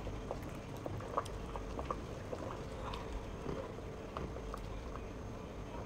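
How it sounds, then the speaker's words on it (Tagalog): Vegetable soup with dill and parsley boils in a pot, a steady close bubbling with small irregular pops and gurgles, even and moderately quiet, with no talking. "pagkatapos pakuluan ng ilang minuto ay tingnan natin kung luto na"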